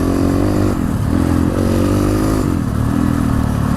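A 300cc dirt bike rides through slippery mud, its engine droning close and continuously with small shifts in pitch as the rider works the throttle over rough ground.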